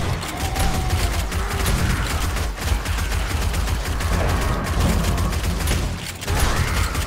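Rapid, sustained 7.62 rifle fire in the zombie survival game 7 Days to Die, a dense, loud barrage of overlapping shots that barely lets up across the whole stretch, with one brief dip in the middle.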